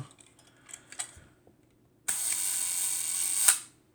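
A Balda Baldax folding camera is wound and fired at a one-second shutter speed: faint small clicks and mechanical ticks, then a sharp release and about 1.5 seconds of buzzing shutter run before a closing snap, heard close and alone.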